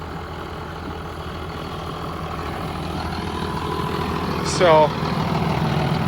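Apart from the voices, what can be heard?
tractor engine running in field during tillage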